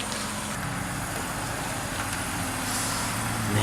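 A BMW E39 sedan is driven with a steady, rumbling engine and road noise that holds constant throughout, close by and with no one speaking.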